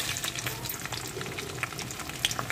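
Onions fry in hot oil left over from frying chicken pakoda, a loud, close, crackling sizzle that runs on steadily throughout.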